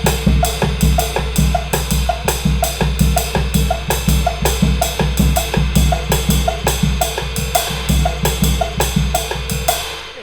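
A drum kit plays an Afro-Cuban 12/8 groove with two bass drum strokes on the second and third notes of each triplet. The hits are steady, crisp and close, with a repeating rhythm and no voices.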